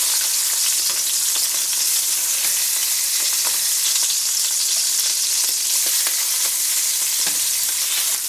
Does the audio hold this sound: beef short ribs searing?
yes